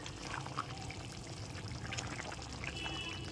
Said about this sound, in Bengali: এরপর এর মধ্যে দিয়ে দিচ্ছি কাজু বাদামের পেস্টটা।